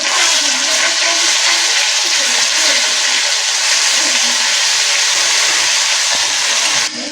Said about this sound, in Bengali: আমার তেলটা গরম হয়ে গেছে, আমি যে আদা আর লঙ্কা রসুন বাটাটা রেখেছি ওটা দিয়ে দেব